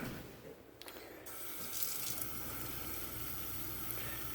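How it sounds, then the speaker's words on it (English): Tap water runs steadily into a kitchen sink while hummus is being made, a continuous close hiss and splash that holds for several seconds without a break. "So I'm just going to get some water."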